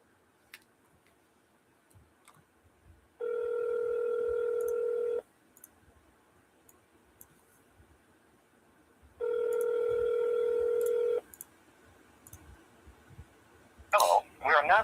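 Repeated ringback tone of an outgoing telephone call, two long steady bursts of about two seconds each separated by a pause, fairly loud over quiet room background, with a brief clatter at the end.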